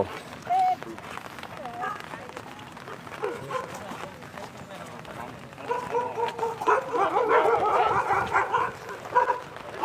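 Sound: dog barking

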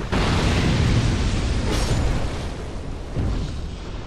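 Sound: fire eruption in video game Dark Souls 2

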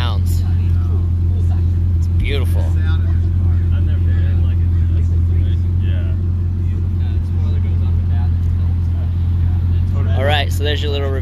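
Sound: Bugatti Chiron Sport car engine

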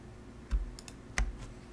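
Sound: computer keyboard typing, pressing Control P

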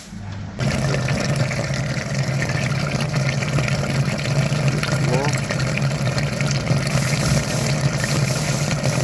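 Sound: pump flushing EV heat exchanger, Kia Niro / Hyundai Kona

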